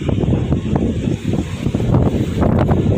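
Super typhoon winds roar at a ship anchorage in Tayud, buffeting the microphone with loud, continuous gusting noise and low rumbling throughout, with no voices.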